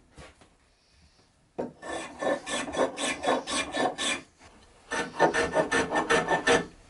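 A hand file rasps across the edge of a wooden workpiece in a small workshop, cutting a small chamfer with a series of quick, close scraping strokes, a pause, then another burst of rhythmic filing.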